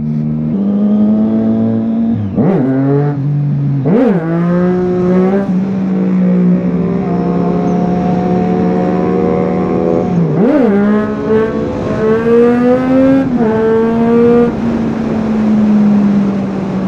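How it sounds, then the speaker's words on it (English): A 2017 Triumph Street Triple S motorcycle engine drones steadily, its pitch dipping sharply at a few quick-shifter upshifts before settling again, loud and close with no talking. "when it upshifts and it has the quick shifter, it just sounds and it feels so natural"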